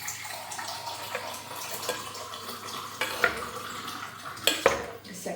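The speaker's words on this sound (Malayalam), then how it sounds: "ഇനി ആവശ്യത്തിന് വെള്ളവും കൂടെ ഒഴിച്ചിട്ട് നന്നായിട്ട് ഇളക്കി" Water is stirred in a cooking pot before tapioca goes in, giving soft sloshing with clinks and scrapes of a utensil against the metal pot. The sound is fairly quiet and close, with no speech.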